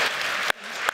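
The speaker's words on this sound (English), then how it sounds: "So I ask all the Academy team to come for a round of applause" Audience applause for the academy team at a closing ceremony, a steady wash of clapping with two brief sharp accents standing out from the crowd.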